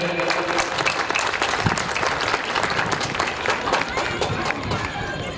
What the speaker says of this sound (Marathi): प्रथमेशसाठी जोरदार टाळ्या वाजवूया.